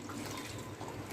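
Water is poured into a bowl of besan (gram flour) batter in a kitchen, a soft, continuous trickling splash heard close up and faint, with no talking.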